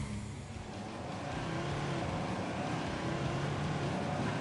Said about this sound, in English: I am racing a pickup truck off-road in Wales to refuel a helicopter.